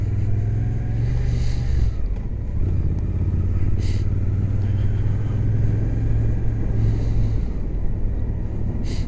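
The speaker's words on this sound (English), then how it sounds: "I'm getting the hang of this motorbike now." Steady low engine drone of a motorbike being ridden near Felixstowe, continuous rumble with wind buffeting the microphone and slight dips in pitch as the throttle changes.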